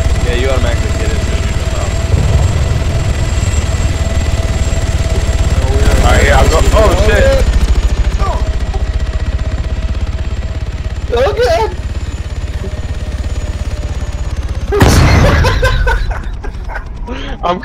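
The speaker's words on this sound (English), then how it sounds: "The helicopter landed on top of me." A helicopter in a multiplayer shooter game drones with a steady rotor and engine hum through most of the clip. Players talk excitedly over it, and a few sharp bursts are heard near the end.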